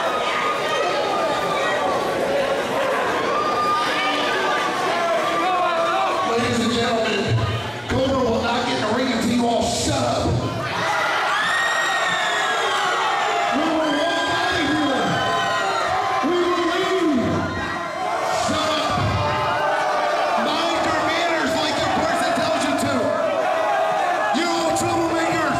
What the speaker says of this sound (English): Seems like a rough crowd.